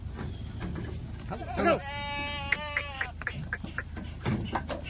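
Kathiawadi goats bleat several times from a livestock truck at a goat market, a drawn-out wavering call standing out over crowd chatter and background noise, with shorter bleats following.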